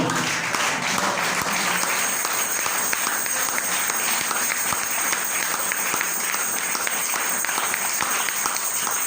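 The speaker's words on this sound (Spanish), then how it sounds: "Démosle un aplauso al Señor." Church congregation applauding during a service, a steady, full round of clapping from many hands that carries on evenly for about nine seconds with a few scattered voices underneath.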